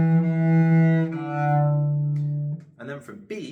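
String instrument playing two bars of a tune, a sustained bowed low note held for over two seconds and slightly changing, then fading, followed by a short spoken voice.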